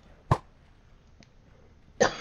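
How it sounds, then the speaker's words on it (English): A person playing Minecraft coughs close to the microphone, two sharp separate bursts about two seconds apart in an otherwise quiet room. "Sorry about the coughing."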